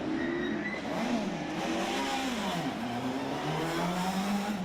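A Fiat rally car races through the Ards TT special stage of the 2015 Circuit of Ireland, its engine revving and rising and falling in pitch as it passes at moderate distance, with steady road and crowd noise beneath.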